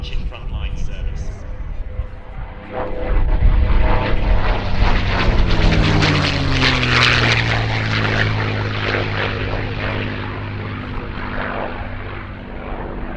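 P-51 Mustang warbird at the Shuttleworth Festival of Flight airshow, its propeller engine droning loud and close as it passes, pitch sweeping downward with a Doppler shift before fading into a distant rumble.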